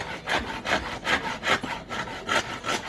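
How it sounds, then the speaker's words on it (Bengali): A hand saw cuts through wood during construction of a bamboo bicycle, its rhythmic back-and-forth rasping strokes repeating steadily, loud and close, with no other sounds. "আবার চলছে অনবরত করাতের শোরগোল"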